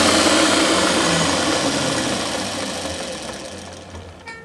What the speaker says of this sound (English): Let's shut the lathe off.